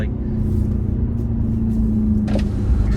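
A 2013 Audi RS5 engine drones steadily from inside the cabin while driving, a low, constant rumble with a humming tone and road noise.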